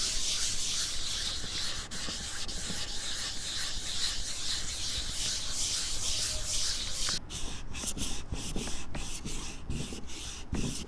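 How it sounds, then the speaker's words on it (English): A Fesley kit guitar body is sanded by hand, a continuous close scratchy rubbing that turns into rhythmic back-and-forth strokes near the end, with faint birds chirping in the background. "Am I sanding too much?"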